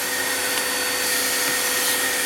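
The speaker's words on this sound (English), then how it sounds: "I'll take a moment and use my vacuum cleaner to get rid of that" A vacuum cleaner runs continuously with a loud, steady whooshing roar while cleaning up debris in a workspace during the disassembly of an antique brass chandelier.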